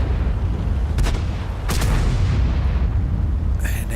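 In the World of Tanks game, tank guns fire shells as a few sharp booming bursts over a loud rumbling battle background, including one near the start and a cluster close together after it.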